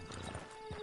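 Brief clip-clop of horse hooves in Red Dead Redemption 2, a few soft, muffled steps close by over a steady low hum of game ambience.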